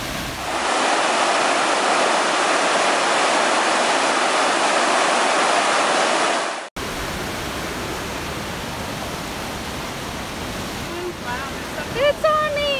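Fern Branch Falls in the Great Smoky Mountains roars as a loud, steady wash of falling water, then continues as a softer rushing background with brief bird-like chirps near the end.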